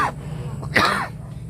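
A single short, sharp cough with a rough throat-clearing quality, close and loud over a quiet hum.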